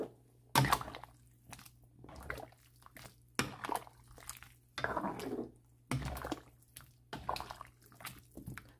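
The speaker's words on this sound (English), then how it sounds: "So give a little stir." Beef pochero stew with soft carrots is stirred in a pot, giving a series of wet, squishy sloshes and clinks that come in irregular bursts, close by and fairly quiet.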